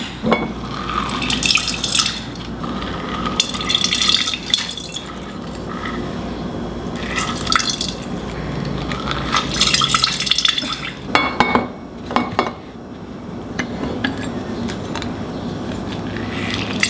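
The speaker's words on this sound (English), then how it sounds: "I'm gonna just put some fresh lemon juice into the bottom of this jug" Fresh lemon juice from three juicy lemons is squeezed and poured into a jug, with close liquid splashing and trickling in uneven bursts, faint clinks of glass, and brief pauses between pours.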